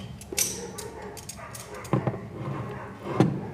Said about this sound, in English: And the dogs are going crazy.